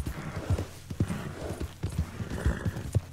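Hooves clip-clop in a quick steady rhythm, like horses trotting close by, with a soft whinny mixed into the clatter, from the video game Red Dead Redemption 2 on PS5.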